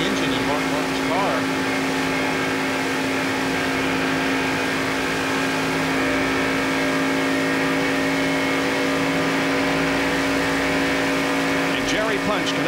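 A Ford NASCAR Cup race car at Daytona International Speedway in 1994, heard from the in-car camera, holds a loud, steady high-revving engine drone throughout, with a commentator talking over it.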